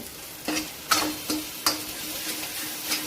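Turmeric stirred into a sizzling tempering of oil and spices for a sprouted moth bean dal curry: a steady hot-oil hiss with several distinct scraping stirs of a spoon in the pan, close and moderately loud, no talking.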